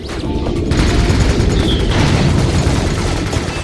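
In the Ratchet and Clank video game, turret fire and explosions form a dense, continuous barrage of rapid shots and heavy booms that stays loud throughout.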